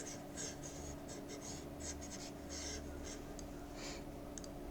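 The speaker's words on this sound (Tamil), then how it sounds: "ஒரு நிமிஷம் எல்லாம் ரப் பண்ணிக்கிறேன்." Board being wiped clean after a maths class sum, writing rubbed out by hand; soft, repeated scrubbing swishes in short irregular strokes, close and fairly quiet, over a steady background hum.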